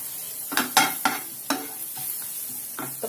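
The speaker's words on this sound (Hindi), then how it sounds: "इनको कर लेंगे अच्छे से सॉटे सबको साथ में।" Mixed vegetables sauté in a pan for a mushroom white sauce pasta, with a continuous sizzle broken by several sharp scraping stirs of a spatula, close and clear with no talking.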